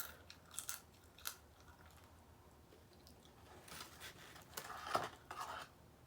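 Crusty Whataburger fries are chewed close to the mic, faint intermittent crunchy bites and mouth sounds over a quiet background, without talk.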